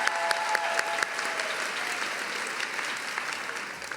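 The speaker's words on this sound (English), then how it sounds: "let's clap for it again" A large graduation crowd at a UCLA humanities commencement claps in a steady, dense wash of applause that thins slightly as it goes on, with a few sharper individual claps standing out early.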